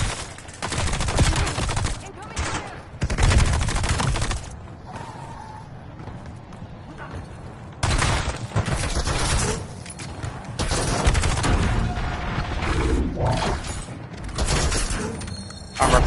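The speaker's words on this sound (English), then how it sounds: "Incoming fire." Rapid video-game gunfire from Call of Duty Black Ops 7 plays in loud, dense bursts with short pauses between volleys, punchy and close, with some speech in places.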